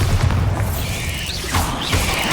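A Bombarda spell explosion in Hogwarts Legacy: a heavy, booming blast with a rumbling low tail and a swooping magical whoosh, loud and close, with further spell effects layered over it.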